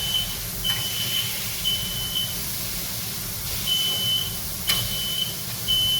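A smoke alarm beeps in short, repeated high-pitched chirps while burgers sear and sizzle loudly on a hot pan in a home kitchen. The beeps come in a few bursts over a steady frying hiss.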